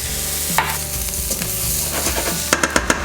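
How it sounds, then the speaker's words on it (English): Onion and garlic sauté loudly in a pan before arborio rice goes in for risotto, a constant close sizzle broken by the scrape and clack of a stirring utensil, several sharp knocks near the end. "get that onion and garlic sauteing"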